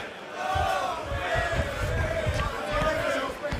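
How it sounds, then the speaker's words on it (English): A boxing crowd at the Indigo chants in support of fighter Phil Wells, a rhythmic collective chant of many voices filling the venue steadily throughout, with a commentator's voice over it. "Bit of a crowd chant going on, early doors here at the Indigo"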